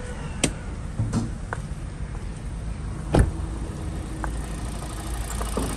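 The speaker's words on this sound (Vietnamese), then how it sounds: "Đây là máy bác xem nhé." A 2020 Hyundai Accent with its manual-transmission 1.4 engine running steadily at idle, a low even hum with a few faint clicks and knocks over it, heard close and with nobody talking.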